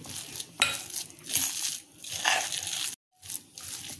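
A spoon stirs a chole tikki mixture of chickpeas and finely mashed potato in a bowl, making close, irregular scraping and squelchy crunching bursts with a brief silent pause partway through.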